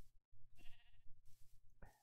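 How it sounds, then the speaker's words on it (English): Sheep in Minecraft give a few short, wavering bleats close by, separated by brief pauses, with no talking. "See, there's already sheep over here."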